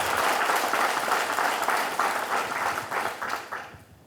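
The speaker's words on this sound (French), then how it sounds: "Ça s'applaudit." An audience at a public meeting in Terrasson breaks into loud, dense applause that holds steady and then fades out over the last second, with no talking.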